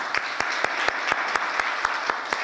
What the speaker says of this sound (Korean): 하나님께 영광의 박수로 우리가 함께 돌려드리기 원합니다